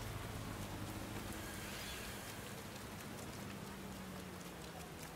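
Steady rain falls across a city street in the video game Watch Dogs: Legion, set in London, a dense continuous hiss with a low hum beneath it and no voices.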